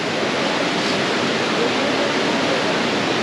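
Rushing white water on the mountain route between Kedarnath and Badrinath, a loud, dense, unbroken roar of churning current close by with no break or talking.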